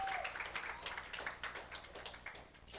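Scattered audience clapping for a guest speaker from Howard University at a university event, a steady soft patter of many hands throughout.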